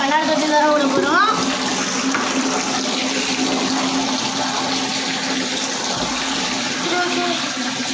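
Water runs steadily into a glass fish tank, a continuous loud rushing and splashing that fills the whole span with no break.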